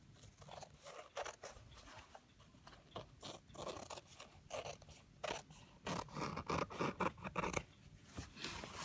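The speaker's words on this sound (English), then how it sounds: "just trim off along the border of the shape" Scissors snip along the edge of a shape cut from fabric bonding sheet, a quiet run of close, rhythmic cutting and scraping strokes with short pauses between.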